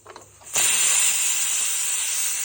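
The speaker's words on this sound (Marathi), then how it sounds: "तीन चिट्ट्या झालेल्या आहेत आता आपण त्याच्यातली हवा काढून घेऊ" A pressure cooker's steam is released after its whistles, bursting into a loud, sustained high hiss that starts suddenly after a few faint clicks and stays steady as it slowly eases.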